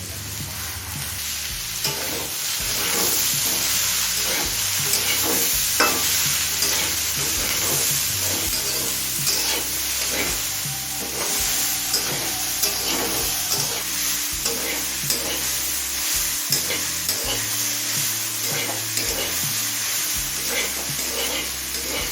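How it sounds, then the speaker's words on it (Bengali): Onion stalks, green beans and cauliflower frying in a pan, with a steady bright sizzle and repeated scraping strokes of a spatula stirring the vegetables throughout. "পেঁয়াজ কলি বিনস আর ফুলকপি দিয়ে মিনিট দু তিন ভেজে নিলাম"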